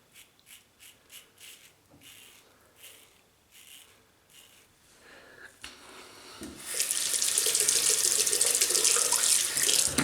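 Tap water runs into a sink while shaving with mug soap, first as quiet intermittent rubbing and splashes, then a loud, steady hissing stream for the last few seconds.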